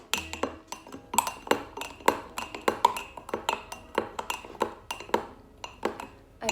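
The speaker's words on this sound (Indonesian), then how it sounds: "kita aduk menggunakan sendok." A metal spoon stirs detergent and water in a glass, producing a rapid, irregular series of bright clinks and pings against the glass, close and fairly quiet, with no talk.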